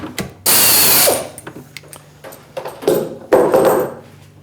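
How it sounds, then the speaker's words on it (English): Number 9 drill bit boring a clearance hole through a metal clamp for a hand scraper in one push without pecking: a loud whirring bite of the bit cutting, then a series of shorter grinding, ratcheting bursts of machine noise, close up. "This is a number 9 drill."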